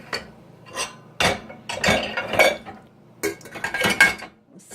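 A pot and dishes clatter and clink as they are shifted around inside a dishwasher rack, with bursts of close, irregular banging and scraping separated by short pauses.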